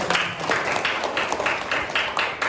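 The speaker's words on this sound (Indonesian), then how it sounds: "tepuk tangan dulu" Students clap together in a classroom during a mathematics lesson, a short burst of close, busy hand claps with a slightly uneven rhythm.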